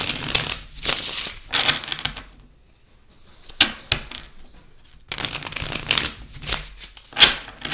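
A deck of oracle cards is riffled and shuffled in several close, crisp bursts of papery flutter, separated by short pauses and one longer silent gap.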